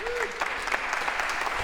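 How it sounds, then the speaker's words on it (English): A lecture hall audience gives brief applause, a dense patter of clapping that lasts under two seconds, with a voice briefly audible at the start. "a round of applause for our volunteers here"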